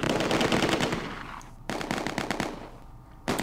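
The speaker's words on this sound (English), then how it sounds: "See the mortars. Let's go ahead and have them fire" Rapid, loud bursts of simulated weapons fire from the war game Close Combat 2, with dense rattling volleys in three bursts separated by brief pauses, mortars among the firing.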